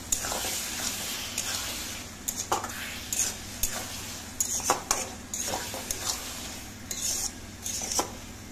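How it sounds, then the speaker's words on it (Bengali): Mashed eggplant bhorta with mustard oil stirred and fried in a pan: steady low sizzle under repeated scraping and clinking strokes of a utensil against the pan, close and moderately loud, with no talk. "ব্যাস, একটু ভাজলেই তৈরি বেগুন ভর্তা"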